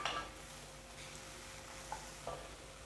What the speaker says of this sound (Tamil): இது கூட ஒரு பட்டை ஆட் பண்ணிக்கிறேன்.